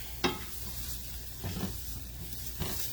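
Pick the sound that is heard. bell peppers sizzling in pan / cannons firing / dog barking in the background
bell peppers sizzling in pan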